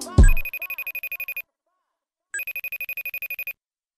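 Telephone ringing inside a rap song: two bursts of rapid electronic trilling rings, each about a second long and separated by a brief pause, loud and close, with a short vocal sound at the start.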